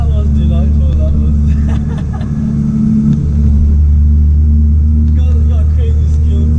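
A 700bhp Nissan Skyline's engine rumbles loudly and steadily from close by, with a brief swell midway, under people talking.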